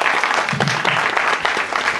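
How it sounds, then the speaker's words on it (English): A crowd applauds in a short burst, clapping uneven and close, with a brief voice or shout cutting through partway. "give a special round of applause for the bear"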